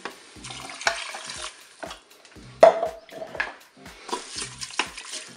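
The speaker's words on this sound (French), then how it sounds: "Je vais ajouter mon bouillon. Donc là, j'ai fait 100 ml de vin blanc avec 200 ml d'eau" Broth of white wine and water poured over chorizo and rice in a Cookeo multicooker, with close splashing, liquid pouring and clinks of utensils against the pot in short bursts.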